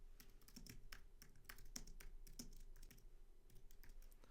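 Fingers tap steadily on a computer keyboard, a quiet, close run of rapid clicking keystrokes with brief uneven pauses, alone without any talking.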